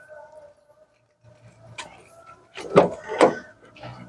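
The door of a 2011 Nissan March 1.2 with a manual gearbox opens with a soft latch click, followed by two loud, close thumps and rattles of the door and body.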